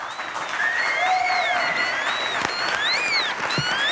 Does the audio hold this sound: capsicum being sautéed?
no